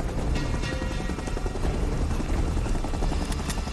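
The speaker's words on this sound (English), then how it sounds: "How'd they get on the chopper?" Helicopter in the video game Uncharted: a loud, continuous rotor thump and engine roar filling the whole stretch, steady and close with no speech.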